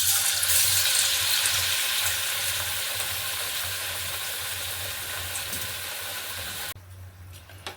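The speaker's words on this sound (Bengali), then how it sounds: "তেল গরম হয়ে গেছে, এবার আমি বেগুনিটা ছেড়ে দেবো।" Battered eggplant fritters frying in hot oil in a wok, a loud, steady hiss under a low hum that fades slightly, then cuts off abruptly near the end.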